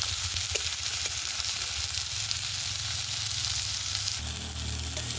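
Onions, garlic and chillies fry loudly in a pan, a dense continuous sizzle with a low rumbling undertone and occasional scraping as they are stirred, alone without any talking.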